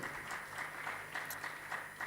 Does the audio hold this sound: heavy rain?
no